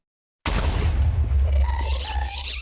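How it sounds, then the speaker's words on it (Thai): An explosion in Minecraft blasts apart ice: one sudden loud boom followed by a rumbling, crackling decay over about two seconds. "มันระเบิดน้ำแข็งผม"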